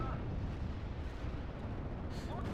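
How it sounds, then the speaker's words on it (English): Airstrike explosions rumble in a Steel Division: Normandy 44 battle, a dense, continuous low roar of blasts with no break, one brighter burst near the end. "Calling in airstrike on their artillery."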